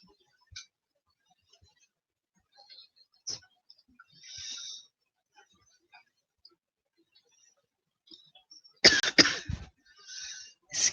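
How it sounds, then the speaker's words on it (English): A few short, sharp coughs in a quiet room, with a louder burst of coughing and throat clearing toward the end, close to the listener. "Been having a little bit of a cough lately."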